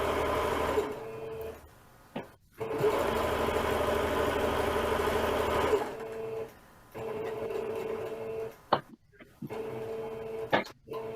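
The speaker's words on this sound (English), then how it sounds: "sew from edge to edge that seam" A sewing machine runs a seam edge to edge in a sewing class, whirring steadily in several long close bursts with brief stops between runs, a voice talking partly over it.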